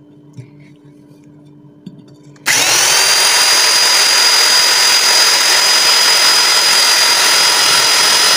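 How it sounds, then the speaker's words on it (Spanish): A power drill fitted with a glass bit bores out and enlarges the drainage hole in a plant pot, starting abruptly after a quiet moment and then grinding loudly and steadily without a break. "Y con el taladro queda el agujero más grande."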